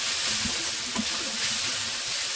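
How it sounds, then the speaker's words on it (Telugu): Ginger garlic paste sizzles and fries with onions in a pan, a steady dense crackling hiss with faint stirring scrapes, close and continuous with no talking. "అల్లం వెల్లుల్లి అయితే వేగింది"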